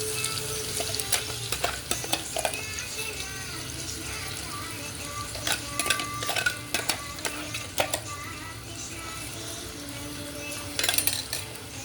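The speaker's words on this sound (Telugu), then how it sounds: "ఒకవైపు మసాలా వేగుతుంది, ఒకవైపు అల్లం వెల్లుల్లి పేస్ట్ వేగుతుంది" Masala and ginger garlic paste fry in hot oil with a continuous dense sizzle. A spoon scrapes and clinks against the pot at irregular moments, and faint voices sit in the background.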